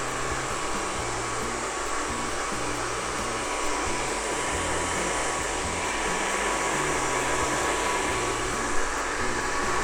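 A hair dryer blows continuously on short hair, a loud steady whirring roar filling the whole stretch without pause.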